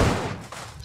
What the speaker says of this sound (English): Man, there's the explosion.